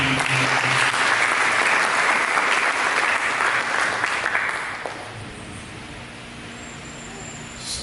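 Church congregation applause rings out loud and dense for about five seconds, then fades away into quieter room tone with faint background sounds.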